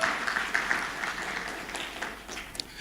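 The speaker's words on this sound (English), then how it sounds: "let's put our hands together for the country director" Audience applause at the Rwanda launch of a mechanization project for Africa, a steady, dense wash of clapping that holds through the whole stretch, with a few louder claps standing out and faint voices underneath.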